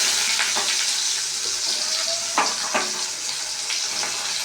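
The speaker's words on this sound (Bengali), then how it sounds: "একটা তেজপাতা আর একটু গোটা জিরে, আলুটা তখন ভেজে নেব।" Cut potatoes fry in oil with a bay leaf and whole cumin, a steady close sizzle with occasional spoon scrapes and light taps over it, no voices.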